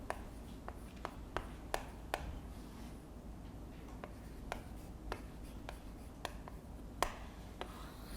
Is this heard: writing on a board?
yes